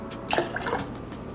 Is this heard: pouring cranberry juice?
yes